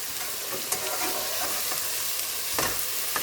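Chopped onions frying in a pan over a medium flame, a steady close sizzle with occasional stirring scrapes and no talking.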